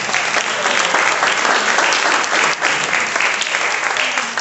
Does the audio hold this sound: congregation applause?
yes